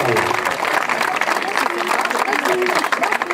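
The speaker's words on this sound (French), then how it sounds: "vous pouvez l'applaudir" Audience applause at a nursery's 30th anniversary celebration in Cabannes, a steady dense clapping that stays loud and sustained throughout.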